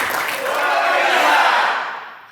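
Audience applause for Ibu Insinyur Herawati at a technical training session, a broad wash of clapping and crowd noise that swells and fades over about two seconds.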